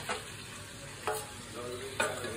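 Meat sizzling steadily in a pan with onion and spice paste, close and continuous, with three spoon stirs scraping through at regular intervals.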